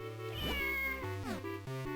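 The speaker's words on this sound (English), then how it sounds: "Cat." A cat in the Zelda Minish Cap game meowing in drawn-out, whining calls, two or three sliding cries in quick succession, loud and close with nothing else over them.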